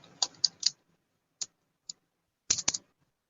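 Keys clack on a computer keyboard while data is entered into Tally accounting software, quiet close clicks in short bursts separated by pauses.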